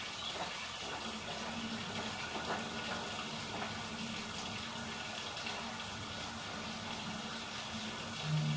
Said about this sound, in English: Let's turn the bathtub on.